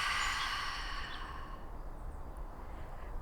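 An open-mouth exhale during yoga belly breathing: one long, soft, breathy sigh that starts airy and gradually fades into quiet room hiss.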